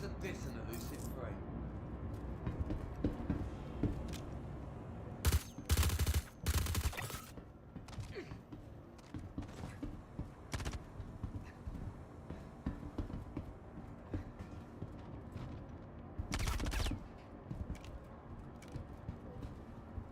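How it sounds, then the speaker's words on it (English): Gunfire aimed at the player in Star Citizen comes as a few loud, sharp bursts, one cluster near the middle and another later, amid mechanical clatter while people talk. "Who's shooting at me?"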